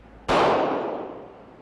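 A single .40 caliber gunshot fired with a 165 grain bullet in a penetration test: one sharp, loud crack that rings out and fades over about a second, with no voices.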